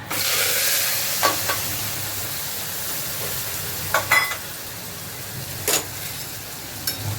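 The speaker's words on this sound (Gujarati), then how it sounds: "હવે હું કરું વઘાર।" Spices crackle and sizzle in hot oil for a tempering for a bottle gourd and chana dal dish, a steady close hiss with a few sharp pops and stirring clicks scattered throughout.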